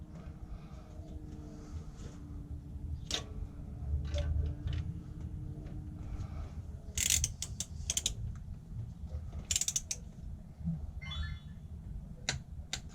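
A ratchet wrench clicking in short bursts while tightening car wheel bolts in a crisscross pattern, sharp close ratcheting between quieter mechanical creaks and shuffling.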